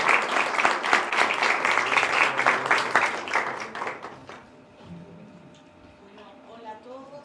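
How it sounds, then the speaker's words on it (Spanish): A conference audience breaks into loud, dense applause that holds for about four seconds, then fades to scattered claps and quiet room noise, with a voice briefly audible toward the end. "démosles un fuerte aplauso"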